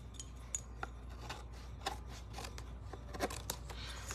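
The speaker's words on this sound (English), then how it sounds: "So let's cut these off." Scissors snipping in a crafting session making patriotic holiday home decor, several quiet, sharp clicks and cuts spaced irregularly over a low background hum.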